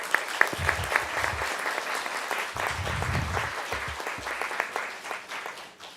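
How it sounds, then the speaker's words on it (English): At a city council meeting, an audience gives a loud, sustained round of applause for the police and fire departments, with dense clapping throughout and a few sharper individual claps near the start. "Please give them a round of applause"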